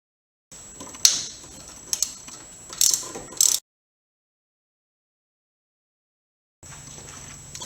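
Ratchet turns a 12mm nut off a starter electrical connector, giving short bursts of rapid metallic clicking close up, separated by brief pauses, then the sound cuts to silence before faint handling noise returns.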